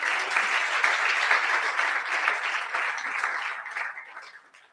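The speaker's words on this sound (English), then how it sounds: "Please let's clap our hands as he comes to stage." An audience at an African digital youth festival applauds as a panelist walks to the stage, a full, continuous roar of clapping that holds steady and then tapers off at the end.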